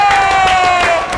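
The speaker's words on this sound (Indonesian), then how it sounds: "Tepuk tangan dulu dong buat winner." Studio audience cheering and applauding for a winning esports team, a brief dense wash of crowd noise with a sustained tonal note running through it.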